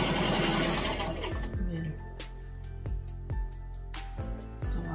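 A sewing machine stitches ribbon onto a tutu skirt in a steady, close whirring run, with brief pauses and restarts as the fabric is shifted.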